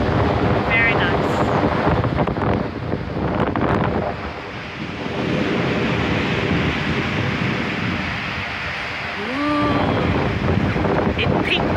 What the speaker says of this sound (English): listening to the ocean sounds,